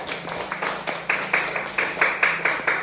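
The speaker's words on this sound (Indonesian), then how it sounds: "Tepuk tangan dong kelompok 1 yang bisa menunjukkan" A classroom of students clapping for a presenting group, a rhythmic run of roughly a dozen evenly spaced unison claps, moderately loud and close.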